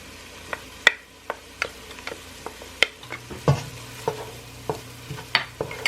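Onions sautéing in a pan while being stirred with a utensil, a soft sizzle under frequent sharp taps and scrapes of the spoon against the pan, close and fairly quiet.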